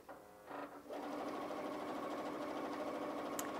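A Pfaff Ambition 620 sewing machine stitching through two folded layers of fabric, starting with a few quick stutters and then running in a steady, close, even mechanical whir.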